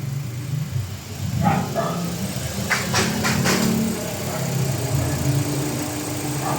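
Mitsubishi Xpander engine idling with the air conditioning running, a steady low hum that holds level throughout, with faint clicks and a brief background voice.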